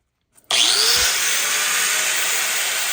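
An angle grinder starts up with a sharp rise to a steady, loud high-pitched whine as it cuts the threads off a bolt clamped in a vise, holding continuously after a brief silence.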